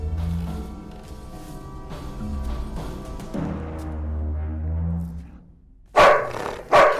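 A dog in a Telugu supernatural horror-thriller film growls in a low, sustained rumble over several seconds, then gives two sharp, loud bark-like bursts near the end.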